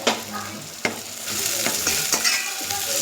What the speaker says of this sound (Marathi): व्यवस्थित असं हलवून घ्यायचं मिक्स करून